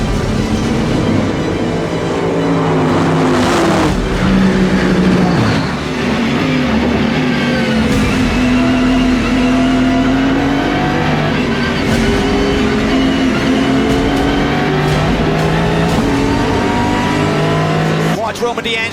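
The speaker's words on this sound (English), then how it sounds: "Here come the DPI cars." IMSA DPi prototype race cars roar past at the Detroit street race just after the green flag, a loud continuous engine drone with rising and falling pitch sweeps as cars pass close, with a commentator talking over it.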